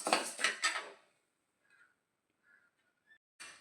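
Roasted murukku flour tipped out of a pan onto a plate: a loud rushing, scraping pour for about a second, then near silence with a few faint clinks, ending in a brief rustle.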